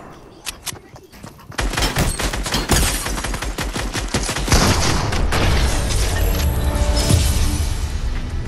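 Video game gunfire bursts out in rapid volleys of overlapping shots and booms, loud and dense, starting after a few scattered shots and continuing steadily to the end.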